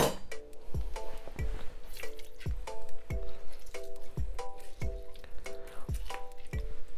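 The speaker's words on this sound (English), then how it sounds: "I'm gonna whack the juice of 4 limes in" Lime juice squeezed into a mango and scotch bonnet hot sauce, a steady series of about a dozen thuds each with a faint ringing clink, close and evenly paced with no talking.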